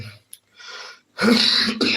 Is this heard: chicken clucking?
no